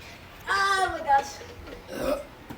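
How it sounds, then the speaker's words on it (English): A child burps during a soda challenge with Sprite and Coke, producing a short, loud, voiced belch of about half a second, followed by a fainter second burst a moment later. "Okay, I need to burp."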